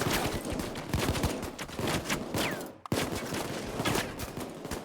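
Gunfire in the video game Payday 2 rattles in dense, rapid bursts of close shots, loud and continuous except for a brief break near the middle.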